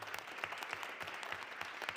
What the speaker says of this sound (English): Let's give the founders a round of applause